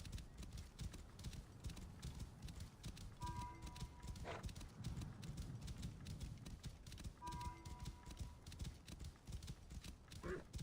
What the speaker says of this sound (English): As you can see, the horse is faster than the camel was